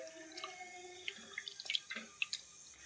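Dissolved tamarind water is poured into a cooking pot for Kanyakumari-style anchovy aviyal, giving soft, faint trickling with scattered small splashes and drips.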